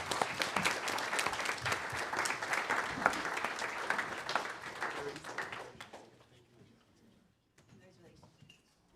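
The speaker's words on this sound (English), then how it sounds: "So let's give Carrie a round of applause for his contribution." Audience at a Board of Education meeting applauding for a teacher, a steady room-filling round of clapping that fades out after about six seconds, followed by quiet room noise.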